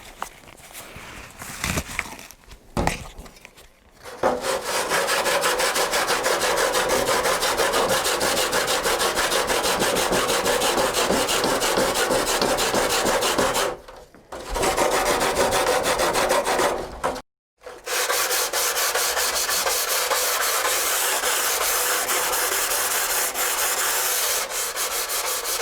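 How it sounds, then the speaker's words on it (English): A Permagrip file rasps steadily along the edges of a carbon fibre bonnet, loud continuous scraping strokes running almost unbroken, with two short pauses partway through. "the next step is to use a permagrip file like this to tidy up these edges considerably"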